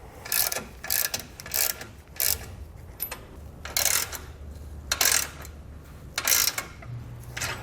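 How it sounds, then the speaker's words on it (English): Bolts on a Roadmaster base plate for a 2020 Jeep are tightened with a 19mm socket and ratcheting wrench, heard as repeated bursts of close, crisp ratchet clicking separated by short pauses. "we're going to be using a 19mm socket and wrench"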